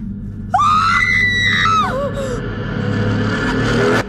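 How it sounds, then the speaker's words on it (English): A generic stock scream sound effect from a movie, one loud sustained shrieking cry that rises and then falls, followed by a rough, steady noisy tail. "It's like a generic scream sound effect that they just threw in"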